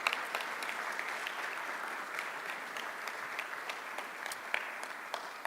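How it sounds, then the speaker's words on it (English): Steady audience applause at a county schools annual education report, a dense patter of many hands clapping at moderate distance, sustained throughout without talk. "let's give Manuel and Jose a round of applause for that work"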